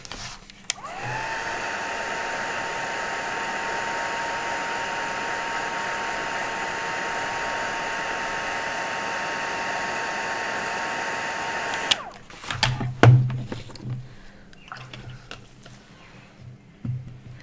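A hair dryer blows steadily on a drying watercolour painting of autumn leaves, a loud continuous whoosh that runs for about eleven seconds and then cuts off, followed by quieter scattered handling sounds.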